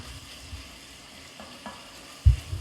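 Onions, celery and other vegetables cooking in a pot for chicken pot pie, a faint low sizzle with a few light stirring touches and one soft knock near the end.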